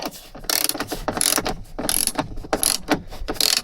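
A ratchet tightens a seatbelt bolt in a Nissan Patrol Y61, several sharp rapid clicking bursts in an uneven rhythm, close and loud, no talk.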